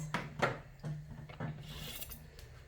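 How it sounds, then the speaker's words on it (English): A kitchen knife cuts rolled dough into strands for a breakfast snack, making about five soft, close scraping strokes against the board, spaced unevenly over a low steady hum with no talk. "you get a knife and just cut out strands or lines like this"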